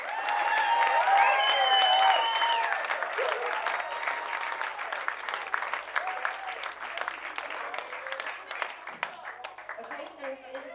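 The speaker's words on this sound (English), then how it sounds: "give all the speakers a huge round of applause" Wedding guests applaud the speakers at a reception, a dense, steady wash of clapping that is loudest at the start and eases slightly toward the end, with scattered voices and cheers mixed in.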